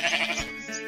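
A goat bleats once in a wavering, nasal cry that sounds close and fairly clear, with a brief low thump partway through and no talk over it.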